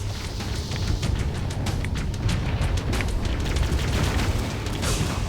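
A loud, sustained rumbling roar with crackling bursts as the ship's engines explode at the ending of Halo 1, continuous throughout.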